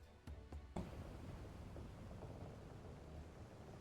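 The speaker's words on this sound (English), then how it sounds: "We're in for a proper storm, it seems." Thunderstorm at sea aboard a ship's deck in the video game Final Fantasy XIV, with a couple of sharp cracks early, then a dense, steady roar of rain and rumbling wind.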